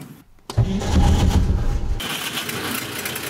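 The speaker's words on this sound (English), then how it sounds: "in this video we're going to start the engine" A vintage Soviet GAZ-21 car engine cranks briefly, then catches and roars loudly to life before settling into a rough, steady idle.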